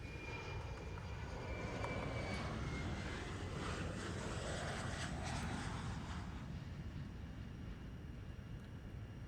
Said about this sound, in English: So let's start the APU.